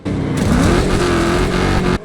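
Racing cars in the chaotic demolition racing game Wreckfest 2 roar at close range, one engine revving and rising in pitch over a dense, continuous engine drone before cutting off abruptly.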